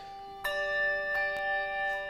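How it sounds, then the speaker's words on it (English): Hand bells struck in turn during a Christmas science lecture, each ringing a sustained metallic tone that overlaps the next, with a few distinct strikes spread across two seconds in a live hall. "my friends here have each got bells. Now, let's see what happens. We'll just send them off in sequence."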